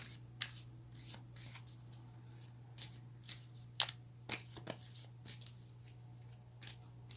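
Tarot cards being shuffled by hand, soft papery riffles and flicks in an uneven rhythm, close and quiet over a steady low electrical hum.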